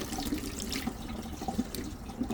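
Water running from a three-hole bathroom sink faucet, a steady close splashing stream with small irregular spatters and no talking.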